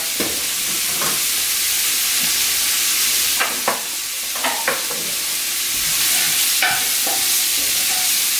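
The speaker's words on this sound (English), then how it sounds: "We've got just a bunch of onion. We're going to let this cook down." Chopped onions cook down in a pot, the first step of a sweet pea soup, giving a steady close sizzle and hiss with a few sharp scraping clicks from stirring scattered through.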